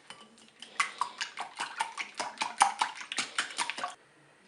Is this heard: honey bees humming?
no